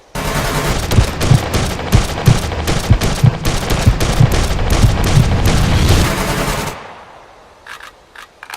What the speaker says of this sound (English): The second example shows how well a character can control the recoil of the rifle, depending on his strength.